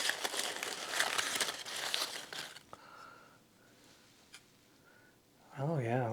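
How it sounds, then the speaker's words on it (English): Paper wrapping crinkling and rustling as collected rocks are unwrapped by hand, busy and close for a couple of seconds, then quiet handling noises before a voice speaks at the end. "maybe unwrap a couple more."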